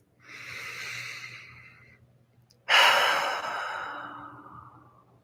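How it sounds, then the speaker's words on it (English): Two deep breaths during a guided calming exercise: a long inhale, a pause, then a sharp, louder exhale that fades slowly, close and clear with no talking. "take another deep breath"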